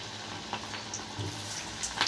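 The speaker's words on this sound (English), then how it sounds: "So we have to fry this Manchurian balls on medium flame" Four vegetable Manchurian balls deep-fry in hot oil over a medium flame, giving a soft, continuous bubbling sizzle with small scattered pops, heard up close with no talking.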